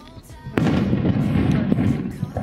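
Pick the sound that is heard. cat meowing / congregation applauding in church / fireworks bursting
fireworks bursting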